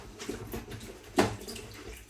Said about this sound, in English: Just a little rinse.